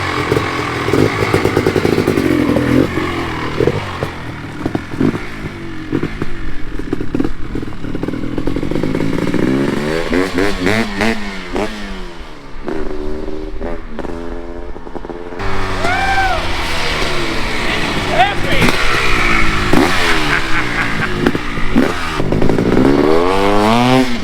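A 2017 Kawasaki KX 500 dirt bike engine runs loud and close, a raw two-stroke snarl that revs up and down in rising and falling sweeps, with harder blips of throttle in the second half.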